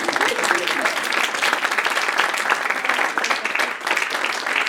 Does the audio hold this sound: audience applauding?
yes